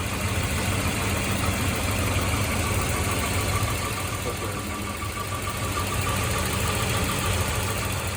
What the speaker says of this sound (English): You want to pop the hood here, and the engine is running. And like I said, it idles nicely.